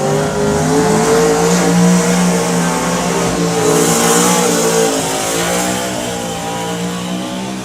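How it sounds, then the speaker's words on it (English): Two Ford Mustang drag cars doing burnouts at a drag racing event, loud roaring high-revving engines with a harmonic snarl, sustained and close, fading slightly toward the end. "Two beautiful burnouts from 2 beautiful Mustangs there."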